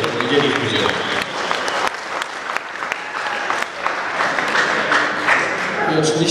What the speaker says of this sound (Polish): Perez, gorące brawa